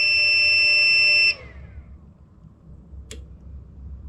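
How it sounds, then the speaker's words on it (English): A Chinese FCHAO power inverter in a fault state emits a loud, steady electronic beep tone that cuts off after about a second, followed by near-silence and one brief faint chirp. "It freaks out, gives us a red light, and that's it. It beeps."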